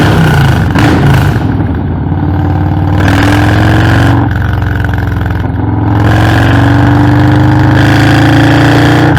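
A Harley-Davidson FXLRS with a Milwaukee-Eight 117 engine, stage 2 build with V28 cams and a Saweeki Speed aftermarket exhaust, rumbles loudly and steadily on the road, with rising revs that drop briefly at gear shifts.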